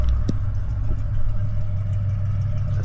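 A Ford Mustang converted to run on E85 fuel idles steadily nearby on a street, a deep, continuous low rumble that holds constant throughout with no revving.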